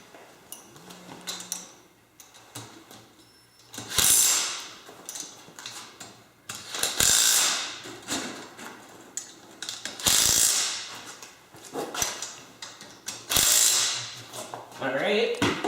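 A ratchet tightens bolts on a CMP front mount dethatcher attachment, heard as repeated loud bursts of ratcheting every few seconds, with quieter ticks and handling noise between them.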